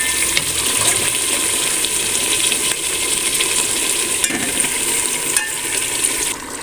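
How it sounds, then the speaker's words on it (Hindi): Boiled beef sizzles and scrapes as it is stirred into hot masala in a cooking pot, a continuous loud frying hiss with occasional spoon knocks, no talking. "अब इसमें मैं गोश्त डालने लगी हूँ।"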